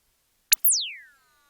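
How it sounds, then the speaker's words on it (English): A short electronic blip followed by a pure synthesized sine-wave tone from a Nord Micro Modular synthesizer that sweeps downward in pitch and fades out, alone in silence. "What if there's sine waves?"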